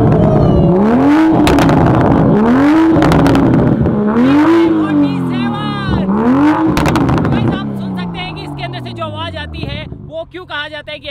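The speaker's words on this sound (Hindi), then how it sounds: "मोटे थोड़ा एक्सीलरेट करियो" A Toyota Supra's engine revs hard several times in a row, each loud rising sweep climbing and falling back before the next, then settling toward idle, with people talking over it.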